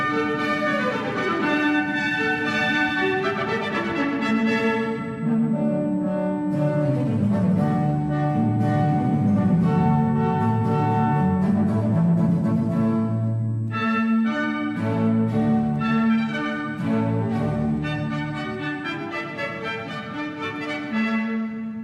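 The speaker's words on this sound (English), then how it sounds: "So what you just heard was composed by Georg Friedrich Handel, a Baroque composer" Stately Baroque orchestral music by Handel plays continuously, with strings and harpsichord-like ornaments moving through flowing melodic lines at a steady, full volume.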